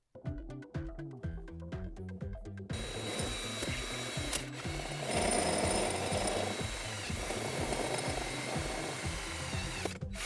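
Milling cutter routing through a sheet of mirror acrylic, with a template glued to it, shaping decorative speaker rings: a loud, steady mechanical whine and grinding that starts after a few seconds of rhythmic tapping and continues close and dense without speech.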